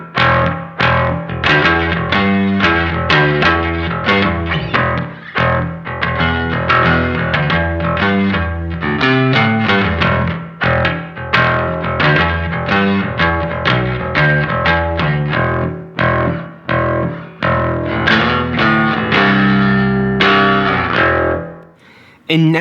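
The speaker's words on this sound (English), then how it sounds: "I've set up a sound where we have a pretty short reverb with some of the highs rolled off" Electric guitar played through a Matthews Effects The Traveler reverb pedal in vintage mode, set to a short, high-mix reverb with some highs rolled off. Loud, continuous picked chords and notes run throughout, then stop abruptly at the end.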